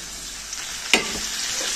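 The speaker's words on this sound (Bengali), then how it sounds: "ঝিঙেটা একটু নেড়ে চেড়ে ভেজে নেবো" Ridge gourd and potatoes frying together in a pan, with a steady close sizzle and a single sharp scrape of a spatula partway through.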